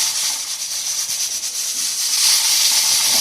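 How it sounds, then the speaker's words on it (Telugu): A pressure cooker holding dal and tamarind vents steam after seven whistles on high flame, a steady, loud, continuous hiss that holds for the whole stretch and swells slightly toward the end, with no talking. "ఆవిరంతా పోయిన తర్వాత కుక్కర్ మూత తీసి చూసుకుంటే"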